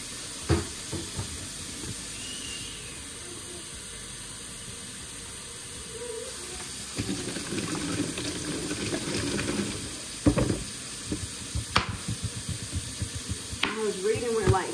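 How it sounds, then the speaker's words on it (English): Hot water poured from a tap into a bucket for floor cleaning: a steady hiss and splash running for several seconds, faint against the room, with scattered clunks and handling noises near the end. "And then hot water."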